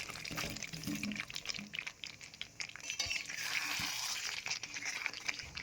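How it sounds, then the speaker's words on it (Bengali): Fried potatoes tumble into a pan of cooked-down spice masala for aloo dum, making a soft clatter and wet sizzle with utensil scrapes and stirring at close range. "এবার ভেজে রাখা আলুগুলো দিয়ে দেব।"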